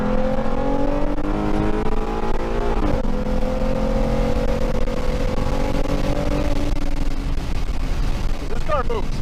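A Ford Mustang with a 3.7 engine, automatic 6R80 transmission and AMR tune, accelerating hard: a loud, sustained engine roar rising in pitch, a brief dip at a gear change, then climbing again, with road noise throughout.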